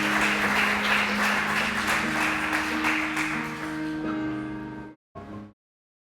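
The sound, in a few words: congregation applause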